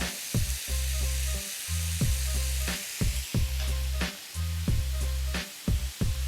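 Fatty minced meat sizzles and fries steadily in a pan with onions, a loud close crackle broken by repeated clanks and scrapes of stirring.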